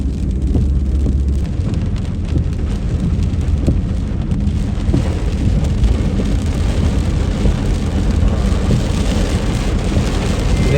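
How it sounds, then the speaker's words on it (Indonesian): Heavy rain pours down at a shopping mall in Makassar, a loud, dense and steady roar of downpour with a low rumbling undertone that continues unbroken throughout. "Ini sudah deras hujannya."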